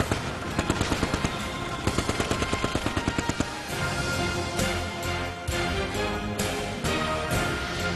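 A light machine gun fires in quick rhythmic bursts of rapid shots, loud and close, followed by a sustained dense roar of gunfire, with no talk.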